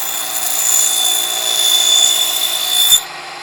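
A miniature table saw cuts a 1/16-inch dado into a small wooden piece for a 1:12 scale bench, giving a loud, steady high motor whine that holds for about three seconds, then cuts off.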